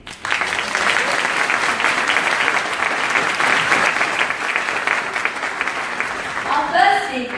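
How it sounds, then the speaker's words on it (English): Steady, dense applause from a school awards ceremony audience, filling the room evenly for several seconds before a voice begins speaking near the end. "A huge round of applause for all schools that were nominated."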